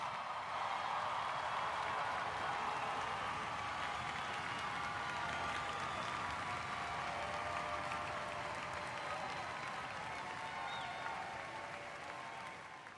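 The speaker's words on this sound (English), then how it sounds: "let's give Kennesaw State's newest alumni one more round of applause" Sustained applause from a large crowd honoring Kennesaw State's newest graduates at a spring commencement ceremony, a steady wash of clapping holding level for the whole stretch before tapering slightly at the end.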